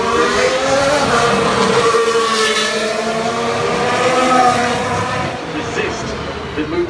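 A Formula 1 race car at the 2016 Singapore Grand Prix, its high-pitched engine screaming loudly and rising and falling through gear changes for several seconds before easing slightly, with faint voices underneath.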